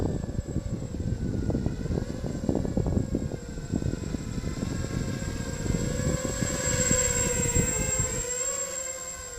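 A RoboCat 270 drone flies in for a closer pass on a windless day, its motors giving a steady loud whine. The pitch rises and wavers as it nears, then fades slightly at the end, with no talking.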